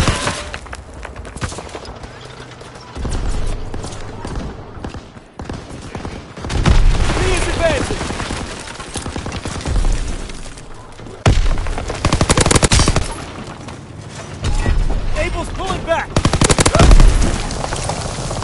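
Heavy gunfire in a World War II video game battle near a castle keep: machine-gun bursts and rapid shots crackle in dense, irregular volleys with booming impacts, loud and close, with voices shouting in between.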